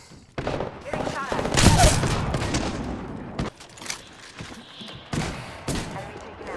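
Automatic gunfire bursts in the battle royale shooter Apex Legends, Shadow Royale mode, loud and dense through most of the stretch with brief gaps, mixed with game voice lines and effects.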